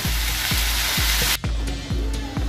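Chopped bottle gourd leaves and small potatoes just added to a hot pan, a loud continuous sizzle with a regular rhythm of scraping stirs, then a brief dip before the frying carries on.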